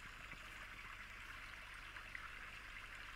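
An iPhone on iOS 16 plays its river background sound, a steady, soft rushing and trickling of flowing water with no voices over it.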